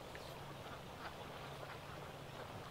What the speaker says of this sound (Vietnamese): bên này là vịt cũng đang tìm thức ăn